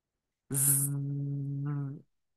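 A single voice imitates a cricket's chirp, opening with a hissy burst that settles into one steady, buzzing tone held for about a second and a half, close and alone.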